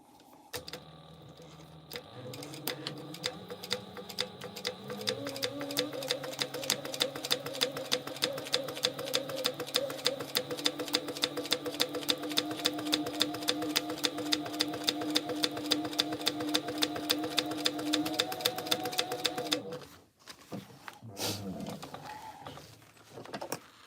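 Sewing machine running a 1/8 inch seam on a tote bag, back-stitched at the start and end: a rapid, even stitching rattle for most of the stretch that changes pace briefly, then cuts off with a few faint handling sounds after.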